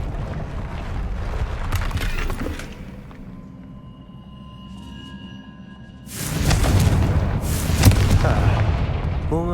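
A Confringo blasting spell explodes in Hogwarts Legacy, a sudden loud burst of crackling blast and rumble erupting partway through after a quieter lull, with fiery debris noise trailing off afterward.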